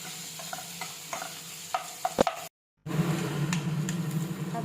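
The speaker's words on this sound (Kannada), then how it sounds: "ಅದರಲ್ಲಿ ಹಸಿರುಮೆಣಸಿನ್ಕಾಯಿ, ಕರಿಬೇವಿನ ಸೊಪ್ಪು ಆ್ಯಡ್ ಮಾಡಿ ಸ್ವಲ್ಪ ಫ್ರೈ ಆಗಲಿ" Onions, green chillies and curry leaves frying for egg rice, stirred with a spatula that taps and scrapes the pan several times, then a brief cut to silence before a louder, steady sizzle takes over.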